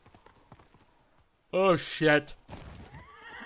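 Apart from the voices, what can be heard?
horse neighing and hooves in the video game Ghost of Tsushima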